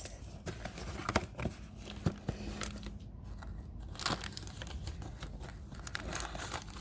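Packing paper crinkles and rustles in quick irregular bursts as a cargo box of houseplants is opened by hand, close and fairly quiet with small taps and scrapes.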